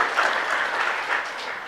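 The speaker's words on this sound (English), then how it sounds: "Ladies and gentlemen, let's give them all a round of applause." Steady, full applause from an audience at a scholarship awards ceremony, an even wash of many hands clapping throughout with no breaks.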